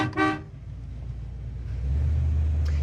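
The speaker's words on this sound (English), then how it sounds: "Horn works as also." A 1957 Chevy Bel-Air car horn gives one short, loud honk near the start, then a steady engine rumble carries on alone without talk.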